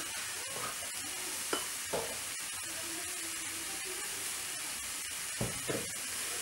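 Apples caramelizing in a pan over low heat give a soft continuous sizzle and hiss, with occasional stirring scrapes and knocks, fairly quiet and close.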